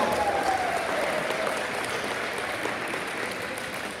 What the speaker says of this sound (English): Let's give them a round of applause as they take down Marathon in the sectional.